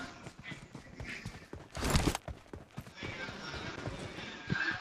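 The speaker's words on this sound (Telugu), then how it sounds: "గుర్రం వచ్చింది. అట్లా గుర్రం వచ్చింది." A horse in the BGMI video game, clip-clop hooves and a brief whinny near the middle, heard under a player talking over the game audio.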